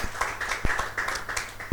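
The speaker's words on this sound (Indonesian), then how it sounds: "Berikan tepuk tangan kita yang luar biasa untuk Tuhan kita." Church congregation clapping for God at a worship service, a short burst of scattered, uneven claps with a few sharper hits, fairly faint and without talk.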